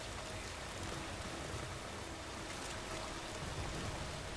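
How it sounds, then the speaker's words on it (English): Steady rain hisses evenly throughout, a dense continuous patter with no talking or distinct pauses. "Yep, rain's already starting to clear up."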